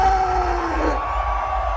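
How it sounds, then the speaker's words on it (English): A festival crowd screaming and cheering at the end of an electronic music set, a loud, dense, sustained roar of voices with a fading high musical tone over it. "put your hands in the air and scream so the motherfucking aliens can"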